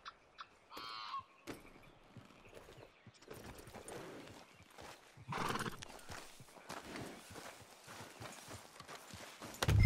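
Horse hooves clip-clop on the ground in Red Dead Redemption 2, a steady walking rhythm with occasional whinnies, fairly close and moderate in loudness, with no talk over it.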